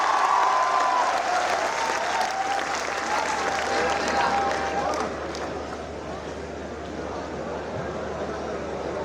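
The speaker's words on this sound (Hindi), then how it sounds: "एक बार जरा मोहन मुंतजिर के लिए जोरदार तालियां बजाओ" An audience at a poetry recital gives poet Mohan Muntazir dense, loud applause that fills the hall and eases off slightly partway through, with crowd murmur and a voice underneath.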